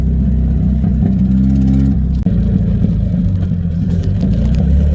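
An MG Midget engine drones loud and close as the car slows and downshifts to first gear, the low rumble shifting pitch with a brief break around the gear change and no talk over it.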